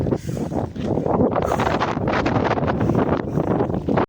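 Strong, gusty wind roars and buffets the microphone without pause, a dense rushing noise that may carry rain within it; no one speaks.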